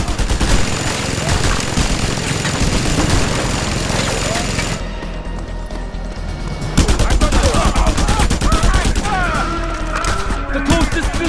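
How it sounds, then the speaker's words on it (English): Rapid bursts of mounted machine gun fire in the video game Just Cause 2, loud and dense, with crashes and explosions mixed in and a short lull midway before the firing resumes heavily. "Look out! Mounted gun!"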